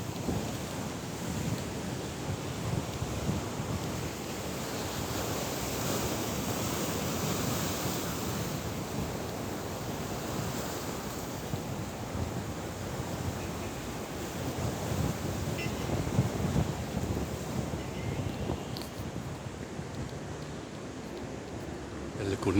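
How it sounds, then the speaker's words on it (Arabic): Huge sea waves crash along the Alexandria shore in strong wind, a steady, heavy roar of surf and gusts that stays loud and unbroken throughout. "الموج يا جماعة رهيب النهاردة، عالي جدا"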